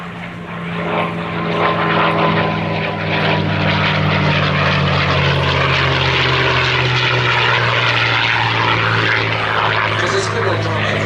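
A P-51D Mustang 'Jersey Jerk' at the Sywell Airshow 2024 drones steadily with a loud, sustained propeller-engine roar, its deep throbbing tone holding and slowly shifting pitch throughout as the warbird passes.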